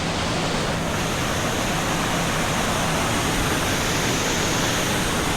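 Steady broadband rush of falling water, loud and continuous with no pauses, like a nearby waterfall pouring without letup.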